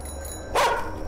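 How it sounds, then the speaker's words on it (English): A single sharp, loud dog bark in a video game bursts out close over a quiet, steady ambient hum. "That dog was much louder than everything else around me."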